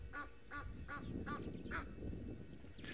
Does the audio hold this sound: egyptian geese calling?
yes